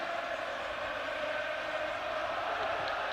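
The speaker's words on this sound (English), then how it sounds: "And the Ajax crowd are beginning to find their voices again now" Ajax football supporters in the stadium at a 1979-80 match against Nottingham Forest, a broad, steady crowd roar holding at an even level throughout, distant and continuous with no clear voices standing out.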